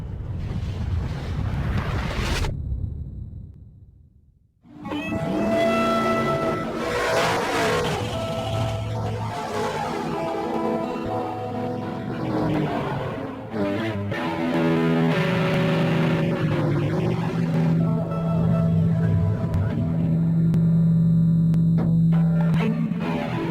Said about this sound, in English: Every Thursday, a whole bunch of fans congregate at this drag strip to enjoy the sights, the smells, the sounds of these muscle cars.